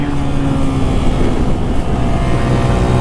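A 2019 Honda Monkey motorcycle engine held at full throttle on the road, a loud, steady droning roar mixed with heavy wind rush, sustained and close without a break.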